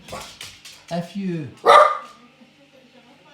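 A dog barks once, loud and close, cutting in right after a voice stops, then only quiet room sound remains.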